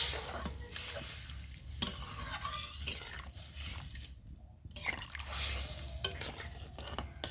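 Water poured into mutton frying in a pan for pulao, setting off a steady close hiss and sizzle with stirring scrapes and occasional sharp clinks of a utensil on the pot, no voices.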